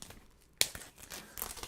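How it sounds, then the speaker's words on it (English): Packaging torn open while unboxing a 4K disc release, a sharp crinkling rip followed by scattered softer rustles and crackles, close by and fairly quiet. "let me unbox this release here."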